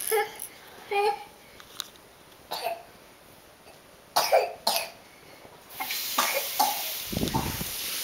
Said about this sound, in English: she's got a little cough